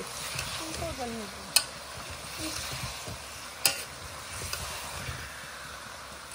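Local chicken meat fries in a pan with a steady close sizzle and hiss, broken by a few sharp clinks of a utensil stirring against the pan, while a voice speaks faintly in the background.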